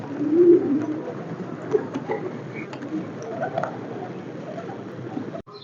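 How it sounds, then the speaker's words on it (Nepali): A large flock of pigeons coos continuously around the Krishna temple square in Patan, a soft, low, overlapping burbling that stays close and steady, with faint voices and open-air bustle in the background. "कति धेरै परेवा छ,"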